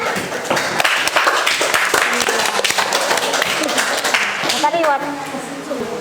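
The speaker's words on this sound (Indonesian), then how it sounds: "Ya, tepuk tangan." A school class claps hands in a classroom, a loose, uneven patter of nearby claps with voices chattering over it and rising toward the end.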